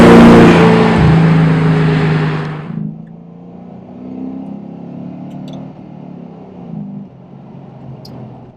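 A modified Mercedes-Benz 560 SL R107 with 383 horsepower roars loudly under acceleration for a few seconds, then settles into a quieter, steady engine drone while cruising, close by and with no talking.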